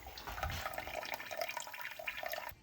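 Water spraying from a Clear Rear bidet nozzle, a steady splashing hiss with small dripping spatters, close and moderately loud for under three seconds with no talk.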